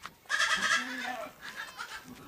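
Young goats in an enclosure bleating, a couple of close, wavering cries over about two seconds.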